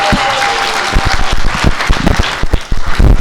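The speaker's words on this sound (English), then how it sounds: "Can we please applaud the president?" An audience claps for the president at a political rally, a loud, dense burst of applause with sharp individual claps rising and continuing steadily.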